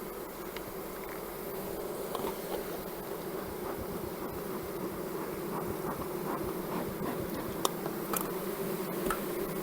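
Honeybees hum steadily inside an opened hive during preparation of a starter colony, a low, continuous drone, fairly quiet and unbroken, with occasional faint clicks and no talk.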